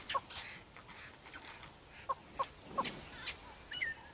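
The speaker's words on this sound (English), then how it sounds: "The tree is alive with birds." Birds calling from a tree on a safari drive, barbets among them: short, sharp chirps and squawks scattered over a faint background, some near and some farther off.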